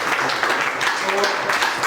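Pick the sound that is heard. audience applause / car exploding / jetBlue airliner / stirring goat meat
audience applause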